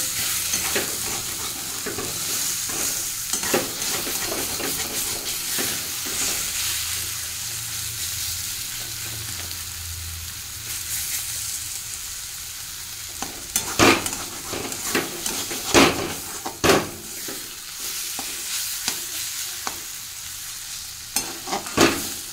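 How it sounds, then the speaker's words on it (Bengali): Pieces of ash gourd sizzle steadily in a hot pan while a spatula stirs them, with scraping strokes that grow into sharp, repeated clicks against the pan toward the end. "একটু ভাজা ভাজা করবো"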